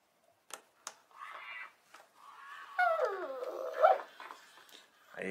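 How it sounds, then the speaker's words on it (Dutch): A robot dog with soft fur gives a few short barks, then a whimpering, whining sequence of rising and falling yelps, close and fairly quiet, with no talking. "Hij heeft een zachte vacht en maakt geluiden net als een echte hond. Blaffen en piepen."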